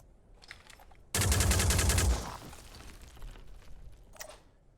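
A single loud, close burst of rapid automatic fire at a Chiron in Phoenix Point lasts about a second, then fades into quieter ambient battle sounds.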